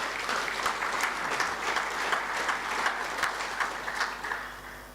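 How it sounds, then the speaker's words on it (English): A room of guests applauds the team at the Western Province Rugby Football Union awards evening, dense steady clapping that holds evenly before tapering slightly at the end. "Let's give them a round of applause, please."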